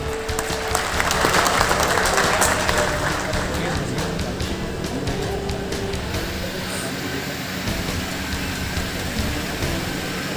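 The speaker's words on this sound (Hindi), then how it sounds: "जोरदार तालियां।" Crowd at a BJP candidate's election office event in Gurugram claps and cheers in a sustained, dense wash of applause with shouting voices mixed in, steady throughout.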